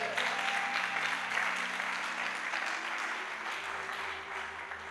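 A church congregation applauds and acclaims the Lord, sustained clapping from a crowd with a bright, even wash of hands and faint voices and music tones underneath, easing slightly toward the end.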